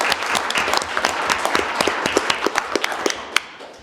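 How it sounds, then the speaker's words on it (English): Applause at a city council meeting, a room of people clapping steadily with sharp individual claps standing out near the end before it tapers off. "So just a round of applause for him."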